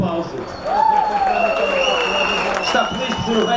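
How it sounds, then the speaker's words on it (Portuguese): A crowd applauds at a carnival prize-giving in Funchal, steady clapping filling the air after a brief lead-in, with a voice speaking over the applause. "Mais um aplauso."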